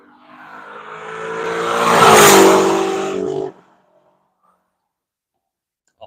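A Corvette race car on the Nelson Ledges circuit accelerates onto the front straight, engine swelling loud as it approaches, peaking as it passes close by, then cutting off abruptly into near silence.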